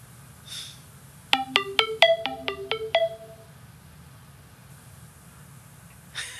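A phone on an outgoing call plays a quick series of bright melodic ringtone notes, moderately loud against quiet room noise, then goes silent.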